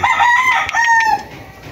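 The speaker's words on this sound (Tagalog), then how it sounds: "Napakagandang brood cock." A brood cock rooster gives one close, loud crow, a drawn-out tonal call that rises and then falls over about a second, with faint background after.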